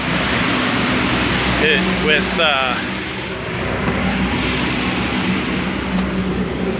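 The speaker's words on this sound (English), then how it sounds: "Detroit traffic" Road traffic in Detroit forms a steady, continuous rumble and hiss of passing vehicles close by, with a voice talking over it.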